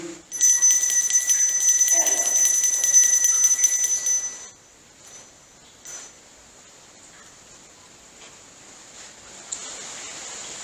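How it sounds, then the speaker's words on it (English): A small handheld bell rings steadily for about four seconds, bright and close with a shimmering tone, during a night investigation at old hall ruins. It then stops and leaves faint background hiss with a few small knocks. "If you can hear this bell"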